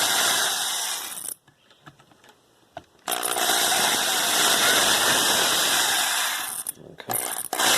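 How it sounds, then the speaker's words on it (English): An electric drill boring holes into the corners of an aluminum capacitor plate for a plexiglass Tesla coil capacitor, loud whining bursts of drilling with a pause in the middle and short gaps near the end. "I'm just going to drill some holes in the corners"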